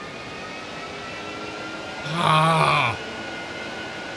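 Jet engines roar steadily in a flight game while trying to land on an aircraft carrier, a constant broadband drone under a short, groaning vocal exclamation.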